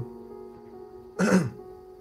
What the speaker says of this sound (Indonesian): mohon maaf ya, agak batuk sedikit ini.